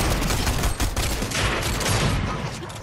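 Dense, sustained SMG fire in a video game, a continuous loud rattle of rapid shots running through the whole stretch without pause, with no talk over it.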